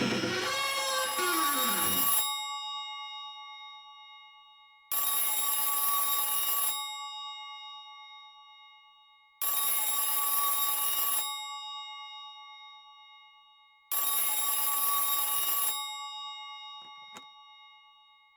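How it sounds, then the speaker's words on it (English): An old-style telephone bell rings in the Silent Hill 3 video game, four loud, evenly spaced bursts of metallic ringing, each about two seconds long with a fading tail and silence between, then a faint click. "I hear a phone ringing."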